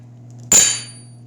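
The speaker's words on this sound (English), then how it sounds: "usually I just give it a shot or 2 with the hammer to start setting that rivet" A single loud metallic clang as a hammer strikes a rivet resting in the bottom die during blacksmith forging of tongs, close and ringing briefly before fading over a low steady hum.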